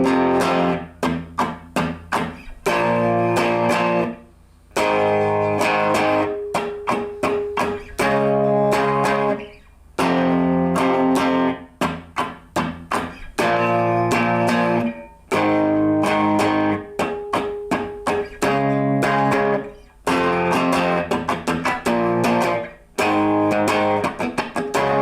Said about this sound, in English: I'm going to show you that main riff in real slow motion